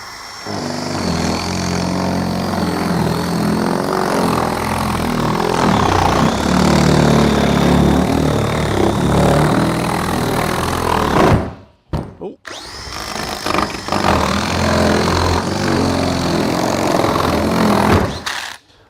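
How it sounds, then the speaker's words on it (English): A drill on its fast setting cuts a hole for a septic system, a loud, continuous grinding whir that briefly cuts out near the end before starting up again and running on. "I put it on the fast setting here because the faster it is, the cleaner the hole and the quicker it does it."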